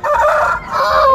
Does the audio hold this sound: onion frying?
no